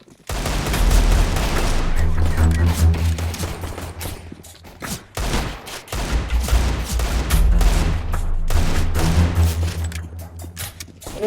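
Desert Eagle pistol fire in CS:GO: loud, booming in-game shots in quick bursts and volleys, a short lull near the middle, then another rapid string of heavy reports.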